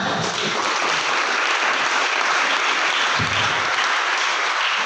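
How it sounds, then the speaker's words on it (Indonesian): A loud, dense wash of audience applause fills a motivational talk hall, sustained and even throughout with no voice heard. "Tepuk tangan."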